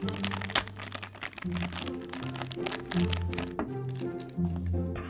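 Plastic crinkling and crackling in quick, uneven bursts, close to the microphone, as a blind box bag is opened by hand, over low, steady background music.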